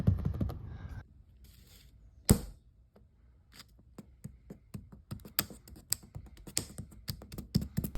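Aged, bubbling vinyl wrap is peeled off a Subaru WRX rear bumper, giving a crackling, ticking rip that grows busier and louder toward the end after a faint start and one sharp knock.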